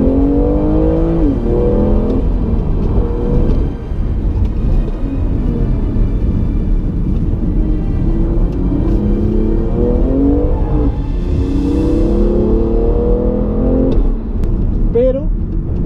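A BMW M2 Competition engine revs hard and loud, rising and falling pitch sweeps over a deep rumble, with someone talking over it throughout.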